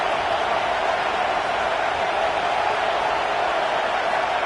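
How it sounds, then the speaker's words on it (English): Stadium crowd in a college football video game, a constant broad roar of massed voices holding steady and loud from start to finish. "Listen to the crowd energy here in the early going."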